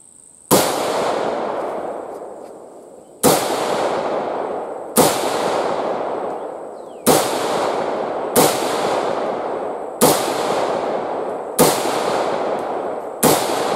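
An Argentine FAL carbine with a bayonet fitted fires single shots at a target 100 yards away. There are eight loud, sharp reports at uneven intervals of roughly one to three seconds, each followed by a long rolling echo.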